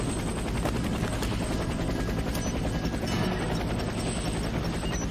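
A helicopter in the Warface video game thrums steadily and loudly, its dense rotor and engine noise filling the whole stretch without pause, with faint gunfire-like bursts mixed in.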